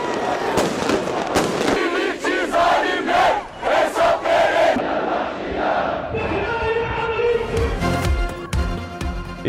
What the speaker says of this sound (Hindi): इसराइल की गजा पर बमबारी के खिलाफ पूरी दुनिया में मुजाहिरे।